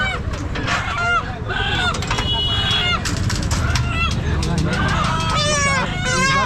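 Dense clucking and squawking of many chickens at a poultry market in Chakan, loud and continuous, with a crowd's chatter underneath.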